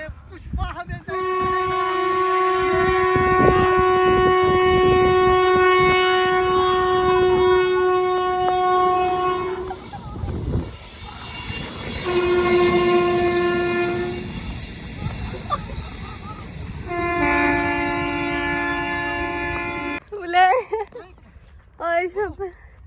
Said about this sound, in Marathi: बघा ट्रेन आली, ट्रेनचा आवाज येतोय